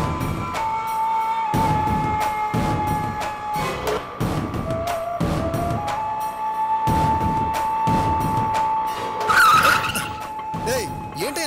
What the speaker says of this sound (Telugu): ఏంటి అంత సడన్ గా ఆటో ఆపో?